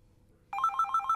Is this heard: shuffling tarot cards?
no